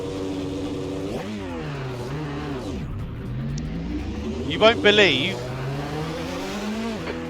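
A McLaren MP4/8 racing car engine in the video game Assetto Corsa whines and shifts pitch as it revs up and down at Hockenheim, with someone talking over it and a brief squeal midway.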